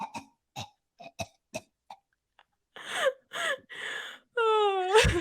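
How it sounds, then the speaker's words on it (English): A person coughs in a series of short, sharp bursts, followed by longer strained, wheezing coughs and a final drawn-out, whining cough, close and alone. "literally, I'm gonna cough"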